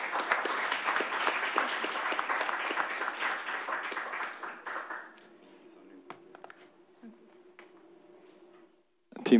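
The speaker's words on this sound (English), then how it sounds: "Let's give them a round of applause" A room of people at a hackathon presentation applauds for about five seconds, the clapping fading out into quiet murmurs.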